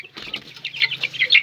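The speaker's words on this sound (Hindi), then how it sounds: "ये फैंसी मुर्गे हैं दोस्तों" Fancy Golden Buff roosters and chickens call close by, with clucks building into strained, high crowing notes in a short burst.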